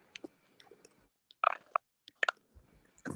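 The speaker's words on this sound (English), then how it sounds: "Sounds like someone's chewing gum." Someone chewing gum close to an open microphone during an online fantasy football game show, giving scattered wet smacking and clicking mouth sounds in irregular bursts, with a few quiet gaps between them.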